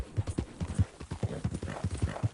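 Horse hooves clip-clopping in the video game Red Dead Redemption 2, a steady quick rhythm of soft, close hoof falls.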